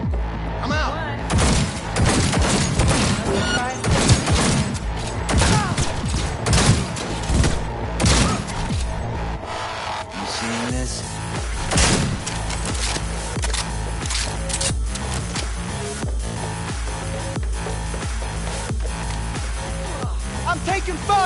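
Heavy, sustained gunfire in a Cyberpunk 2077 firefight, with loud crackling bursts and thuds running almost the whole time and voices talking over the shooting.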